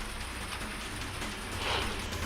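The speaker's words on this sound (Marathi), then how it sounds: "बारामतीसह इंदापूरमध्ये मुसळधार पाऊस झाला." Heavy rain pours in Baramati, a dense, even hiss filling the short stretch, loud and steady with no voices.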